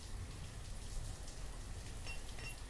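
Steady rain falling in the city-building video game Banished, a soft continuous patter with no voices over it.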